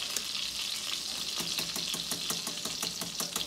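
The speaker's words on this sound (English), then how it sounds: "I got my butter, it's sizzling over here" Steady crackling sizzle of spaetzle frying in hot melted butter, with a run of quick regular clicks or taps near the end.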